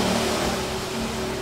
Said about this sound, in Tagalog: Yung sound ng mga sasakyan na dumadaan sa likod ko.